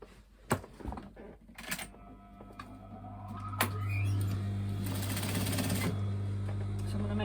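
A sewing machine redoing the hem of a fitted fifties-style pencil skirt: a few handling knocks and clicks, then the motor whirs up into a steady, close mechanical stitching drone with a low hum underneath.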